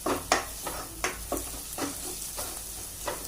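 Turmeric gets stirred into a frying mixture in a pan for rajma: a steady sizzle broken by several sharp scraping strokes of the spoon at regular intervals, close and with no talking.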